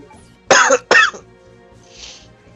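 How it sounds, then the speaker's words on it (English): A man coughs twice in quick succession, close and loud, followed by a softer breathy exhale, over a quiet background during a live Resident Evil Code: Veronica game stream. "he's coughing a lot"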